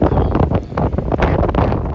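Steady wind buffeting a microphone on an exposed lakeside point at a campground, a broadband rumbling roar that gusts and swells throughout, close and fairly loud with no voices.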